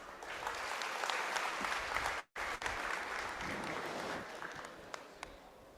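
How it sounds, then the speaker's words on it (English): Applause fills a room at an institutional noon session. A large audience claps steadily and fairly loudly, with a brief cut-out partway through and a gradual thinning toward the end. "So I think we need to give a big round of applause for this."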